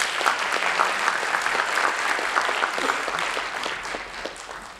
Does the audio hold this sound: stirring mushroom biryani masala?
no